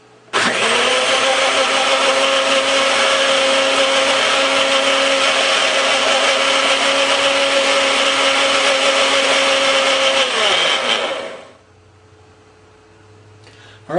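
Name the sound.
blender mixing recipe ingredients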